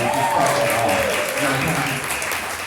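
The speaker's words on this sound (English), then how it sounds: "We're going to just clap for that right quick." Conference audience applauds a speaker being introduced, a dense, steady wash of clapping from a sizable crowd that fades slightly toward the end, with a voice speaking over it.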